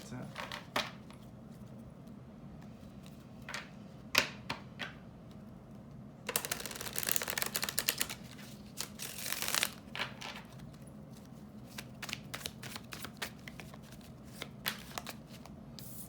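Tarot cards are shuffled and drawn for a Celtic cross spread, with close, crisp riffling bursts and scattered sharp card snaps and taps across the stretch, over quiet room tone.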